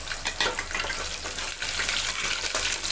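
Shallots and four garlic cloves sauté in hot oil for a Tirunelveli-style sodhi kuzhambu, giving a steady broadband sizzle with faint stirring scrapes, close and continuous without talk.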